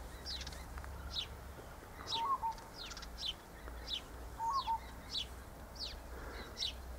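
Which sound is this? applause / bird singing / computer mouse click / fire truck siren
bird singing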